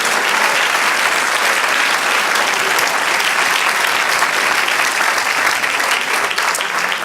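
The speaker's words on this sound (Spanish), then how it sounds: "Dale un aplauso al Señor." A church congregation applauding during a sermon, steady dense clapping from many hands that sounds loud and continuous throughout without pause.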